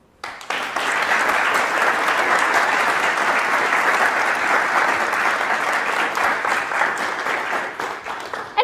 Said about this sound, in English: We got our applause.